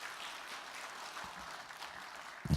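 A church audience applauds two children at a children's event, a soft, steady patter of many hands heard from some distance, ending with a louder thump.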